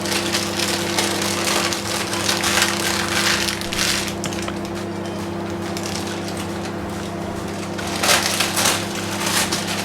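Homemade honeycomb candy peeled out of its tray gives a steady crackling, crunching sound of the brittle sugar slab splintering, close and fairly loud, with brighter bursts of cracking, and no talk.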